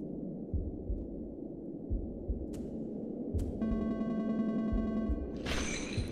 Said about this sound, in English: Nah, the heartbeat beating faster.